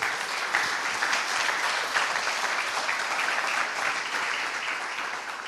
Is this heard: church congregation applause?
yes